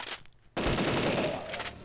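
Rapid automatic gunfire in the zombie-horde shooter Deadly 30: a quiet gap, then a sudden loud burst of closely spaced shots that rattles on for over a second and tails off.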